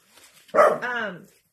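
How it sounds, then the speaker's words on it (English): A dog gives a single loud, close bark, followed by a drawn-out whining yelp that fades, with brief quiet sounds before it. "He still does bark."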